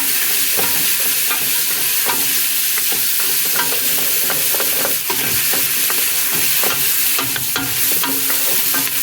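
Frozen cubes of tomato paste cook in a pot for a hearty Italian minestrone, stirred steadily with constant sizzling and scraping that stays loud and even throughout.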